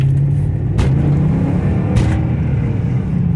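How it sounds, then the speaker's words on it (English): A Mercedes CLK430 with a V8 engine rumbles steadily from inside the cabin while driving, with two brief sharp knocks from the motor mounts slamming cutting through the loud, continuous engine drone. "a little bit of motor mount slam."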